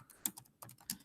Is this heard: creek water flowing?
no